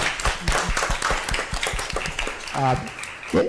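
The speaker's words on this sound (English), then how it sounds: "So let's give him a round of applause for him and his team." Clapping rises from the audience at a school district governing board meeting to honor a staff member and his HVAC team. Scattered, moderately loud claps mix with some voices, and a brief tonal sound cuts in near the end.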